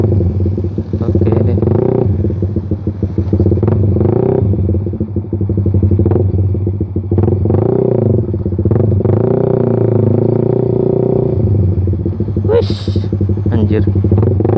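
Suzuki Satria FU motorcycle with a Pro Liner exhaust riding on a main road: a loud, close engine rumble with revving rises and falls and rattling, while a rider talks over it.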